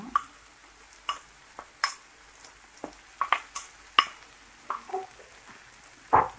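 A spoon repeatedly scrapes and stirs a mixture of potato, vegetables and tuna in a pan, about a dozen sharp, close strokes at an irregular rhythm over a quiet background.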